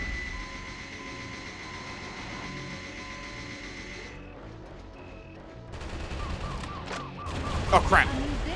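Rapid Gatling gun fire in the Metal Wolf Chaos XD video game, a dense mechanical burst that builds in the final seconds over droning game ambience.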